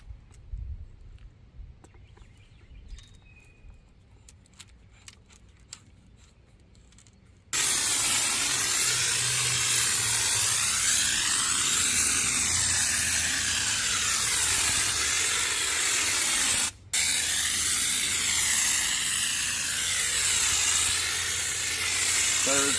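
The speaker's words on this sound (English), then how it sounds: "All right, now to attach the spray foam, I'm going to take the top off, and then I'm going to attach my tip." A can of spray insulation foam fires a loud, continuous hiss for about fifteen seconds with one brief pause, applied around a DIY heat pump hot tub, after a quieter stretch of small clicks and handling noises.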